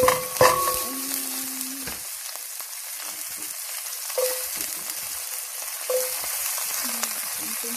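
Garlic frying in a hot pan for one pot chicken biryani, a steady close sizzle with a few stirring scrapes and clinks throughout.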